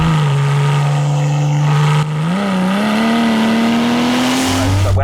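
A Porsche 992 engine pulls hard and loud under acceleration as it drops a gear in sports mode, its rising drone climbing steadily in pitch over several seconds at about 67 mph, with a brief dip midway and no talk.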